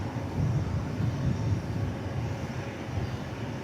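Boeing 747 airliner departing DFW Airport, a steady low jet-engine roar that holds at a fairly even level throughout, distant and continuous with no voices.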